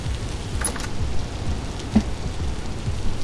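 Steady rain patters down in Vintage Story, a soft continuous hiss with a few brief droplet taps, fairly quiet and without voices.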